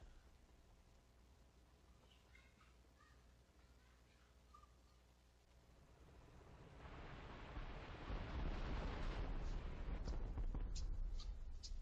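A light armored vehicle blows up in IL-2 Great Battles, a broad rumbling blast rising from quiet background noise and rolling on loudly for several seconds.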